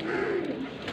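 A female pigeon coos close by in a short, soft, throaty warble lasting about a second, alone without talk.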